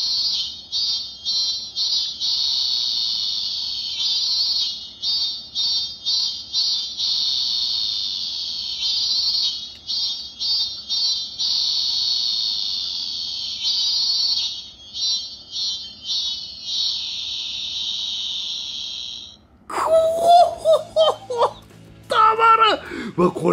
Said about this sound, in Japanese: 今のがね、ミンミンゼミ。